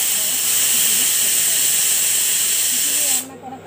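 A kitchen pressure cooker vents steam in a loud, continuous hiss that cuts off abruptly near the end, leaving a quiet room.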